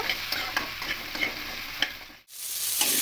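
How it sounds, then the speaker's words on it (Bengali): Potato pieces frying in oil with turmeric and salt give a steady close sizzle, broken by scraping clicks of a spatula stirring them, a brief lull near the end, then the sizzle resumes. "এই আলুগুলোকেও একটু হালকা লাল লাল করে ভেজে নেব।"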